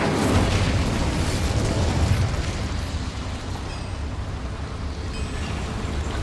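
The Incendio fire spell in Hogwarts Legacy, a dense roaring whoosh of flames that fills the whole clip at steady loudness, slightly easing toward the end.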